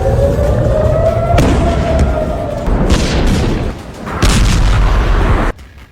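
Missile attack footage carries heavy booming explosions, one striking early and more blasts following in rolling waves, loud and close, ending abruptly in quiet.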